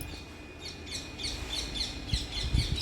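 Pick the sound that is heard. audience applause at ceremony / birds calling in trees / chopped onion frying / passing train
birds calling in trees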